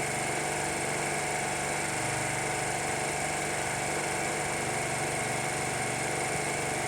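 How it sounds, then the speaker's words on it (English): A Honda Varadero motorcycle engine idles steadily after warming up on choke, a constant, even drone that holds unchanged from start to finish with no voices over it. "see how it idles."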